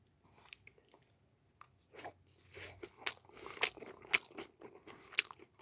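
Someone eats a curry military ration up close, making crisp crunching bites and chewing sounds that start faint and grow louder and more frequent toward the end.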